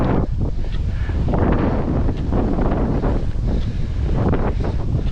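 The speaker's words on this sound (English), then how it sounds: "I tell you what, here it's windy." Strong wind buffets the microphone outdoors beside the water at a carp fishing spot, a steady loud rushing roar with gusty surges throughout and no speech.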